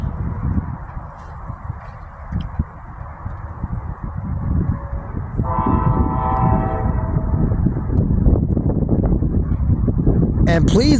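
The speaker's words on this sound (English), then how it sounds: "CSX IO10, which is a daily intermodal train that runs by" A CSX intermodal freight train rolls past nearby with a steady rumble that builds louder over time, and a horn-like tonal band sounds partway through; people talk faintly in the background.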